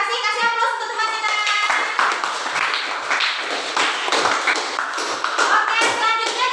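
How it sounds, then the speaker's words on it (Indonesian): A class applauds a fellow student with lively, dense hand clapping that runs steadily throughout. A voice is briefly heard at the start. "Kasih aplaus untuk teman kita"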